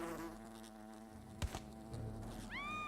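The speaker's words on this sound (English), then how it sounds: "Yeah, what she said, wasps." Steady insect-like buzzing of wasps in Fable: Anniversary, close and continuous, with a brief thump partway through and a rising electronic tone near the end.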